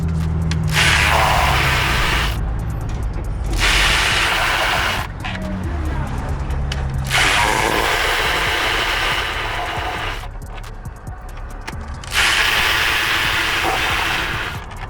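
A ratchet clicks in long, fast repeated runs with short pauses between them, close and loud, as it undoes the valve cover bolts on a Mini Cooper 1.6T engine.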